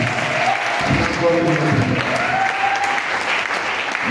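A church congregation applauds together in dense, sustained clapping that holds steady for about four seconds, with a faint murmur of voices blended into the crowd.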